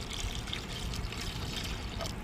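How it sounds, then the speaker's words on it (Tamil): Water pours into a cooking pot already holding turmeric, chili powder and a tomato for a fish dish, making a steady, close splashing stream that lasts the whole moment without talk. "தேவையான தண்ணி சேர்த்துக்கிறோம்"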